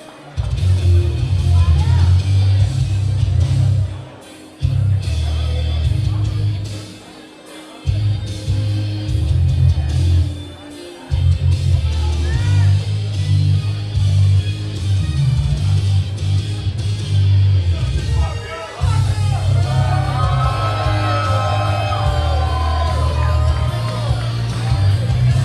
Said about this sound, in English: Listen to the roar of this Cedar Park crowd